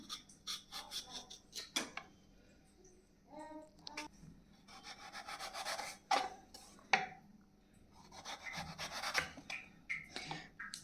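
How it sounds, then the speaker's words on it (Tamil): A raw plantain is peeled with soft, close scraping and rasping strokes that come in short repeated bursts with brief pauses. "தோல் நீக்கிக்கலாம் இந்த சைடில் இருக்கிறதெல்லாம்"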